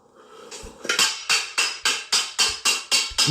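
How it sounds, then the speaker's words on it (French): Metal pots and kitchen utensils are smashed in a steady series of about eight loud, sharp crashes, each ringing out briefly before the next, with no talking. "tu casses des casseroles, toi"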